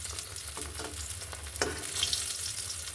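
Fish sizzling in hot oil in a frying pan in a home kitchen, a steady bright crackle and spatter with occasional louder pops, close and continuous.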